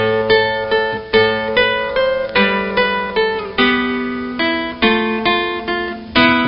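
A guitar plays a passage with a new ending, its plucked notes and chords ringing in a steady rhythm. It sounds close and clear, with no talking.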